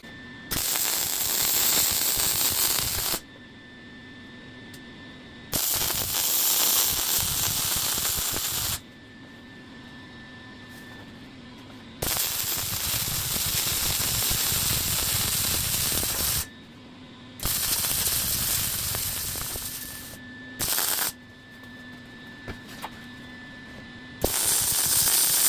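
Welding on the shock towers in a BMW E36 engine bay comes in several loud, crackling, hissing bursts of a few seconds each, separated by quieter pauses.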